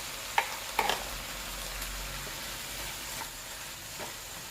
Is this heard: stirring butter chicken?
yes